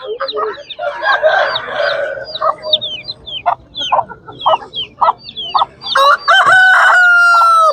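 Chickens cluck steadily at a busy open-air poultry market in Tuzla, and near the end a rooster crows loudly and close by, its long call ringing over the flock.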